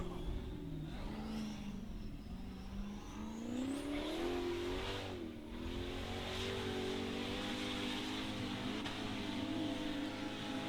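A formula offroad car engine revs hard on a torfæra track at Akranes, Iceland, heard from a distance as a continuous rising and falling whine with surging throttle bursts under a faint crowd murmur.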